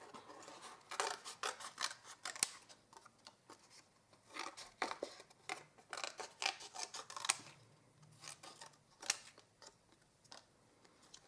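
Scissors snip through gilded paper in a close, quiet series of sharp cuts, with irregular bursts of crisp clipping and brief pauses between strokes, no talking.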